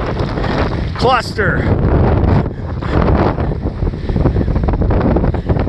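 Strong wind gusts buffet the microphone in a continuous loud roar across an open lawn at a kite festival, with a brief voice near the start.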